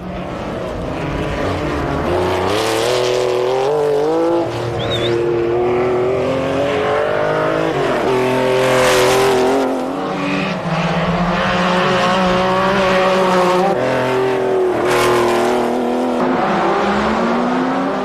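Rallycross race cars, including a red Porsche, roar past loudly with rising and falling engine pitch, revving and gear changes overlapping in a continuous racing din.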